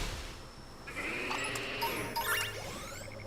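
A goat bleats in the Pokemon Violet video game, a wavering call over game music and chiming effects, moderately loud without any talk.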